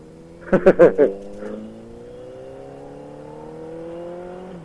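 A few sharp throttle blips from a Kawasaki ZX-14R motorcycle engine, then the exhaust settles into a steady idle rumble that slowly rises in pitch.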